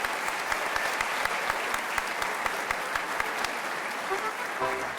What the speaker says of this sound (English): Let's have another big round of applause for our first group of Little Miss and Little Mr.